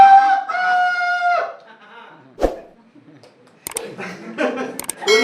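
A person's voice imitates a rooster's crow in a long, drawn-out call at a farmers' training session at an agricultural research centre in Sakoli. A sharp clap follows, then voices of a crowd.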